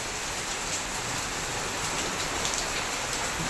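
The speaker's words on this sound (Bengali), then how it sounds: "এখনো কন্টিনিউয়াসলি বৃষ্টি হয়ে যাচ্ছে এই দেশে।" Steady, continuous rain pours down through a late morning, forming an even wash of hiss with no pauses, close and fairly loud, with no voices.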